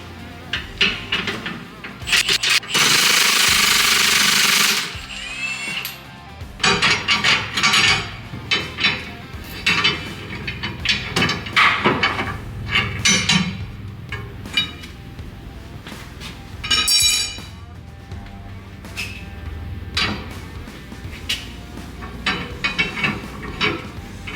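Rear differential bolts on a 2022 Ford F350 are undone with a 15/16 socket. A loud burst of tool noise gives way to repeated metallic clinks and knocks close by, broken by pauses.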